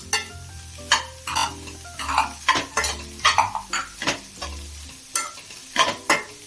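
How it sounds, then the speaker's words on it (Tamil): Cabbage, capsicum and carrot for chicken fried rice are stir-fried in a hot pan, the metal spatula clanking and scraping in brisk irregular strokes over a steady sizzle, close and clear. "எல்லாத்தையுமே சேர்த்துட்டு 2 நிமிஷத்துக்கு வதக்கிக்கலாம்."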